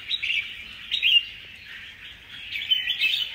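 Wild-caught adult songbirds chirp and tweet in quick bright bursts, several overlapping calls close by and fairly loud with no talking.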